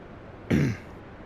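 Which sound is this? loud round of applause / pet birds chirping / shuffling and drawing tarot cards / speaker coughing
speaker coughing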